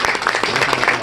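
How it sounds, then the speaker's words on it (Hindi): Audience applause at a Sufi Agro Farms talk in Gujranwala, a brief dense wash of many hands clapping at steady loudness, faint voice traces beneath. "जरा धमाकेदार तालियां इनके लिए हो जाए"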